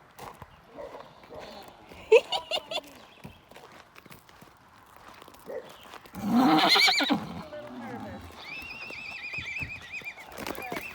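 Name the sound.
dwarf horses and farm horses neighing to each other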